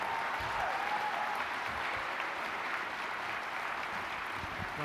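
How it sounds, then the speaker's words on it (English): A crowd applauds an air show hall of fame inductee, a barnstormer, with dense, even clapping that holds steady at full strength throughout, with no talk over it. "give Walt a big round of applause"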